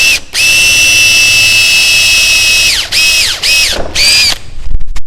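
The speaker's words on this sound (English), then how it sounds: "So we're going to spin the drill bit backwards for the last little bit." A power drill whines at a high, steady pitch, then stops and restarts in several short bursts, loud and close.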